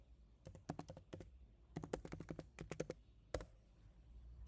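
Fingers tap a password on a computer keyboard in quick bursts of distinct clicks, close but soft, ending with one firmer keystroke like Enter. No voices are heard.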